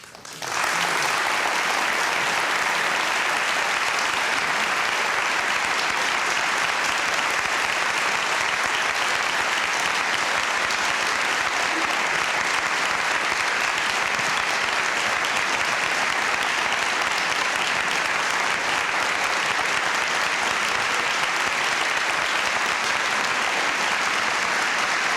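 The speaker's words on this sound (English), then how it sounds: "Please hold your applause until there's someone you really like." A large studio audience at a televised Firing Line debate welcomes the debaters with a long, sustained roar of applause, loud and even throughout, with no speech over it.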